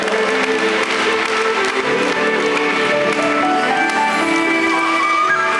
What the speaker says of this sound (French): Applaudir chaudement, s'il vous plaît.